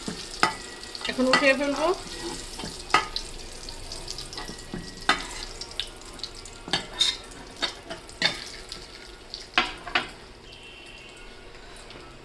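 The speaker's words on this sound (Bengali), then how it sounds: "পেঁয়াজগুলো একটু ভাজা হোক, বেরেস্তার মতো করব" Onions frying in oil in a pan until golden and crisp, a soft sizzle under repeated scraping and clinking of a spoon stirring, with a brief voice speaking.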